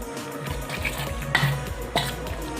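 Sandwich filling being mixed with curd in a bowl: soft, close scraping and stirring with a few sharper clinks of a spoon against the bowl, heard alone.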